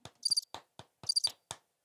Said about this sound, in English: I think that was the applause. I thought it sounded like crickets from what I could hear.